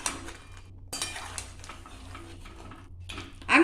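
A spoon stirs drumstick curry with lentil dumplings, potato and pumpkin in a pot, giving soft scraping and clinking against the metal, close up with no talking, ending in a louder clatter.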